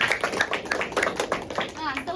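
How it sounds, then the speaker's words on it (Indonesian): Children in a primary classroom clap their hands together in a quick, uneven rhythm of close, crisp claps, with young voices chattering alongside. "Tepuk tangan buat kita semua."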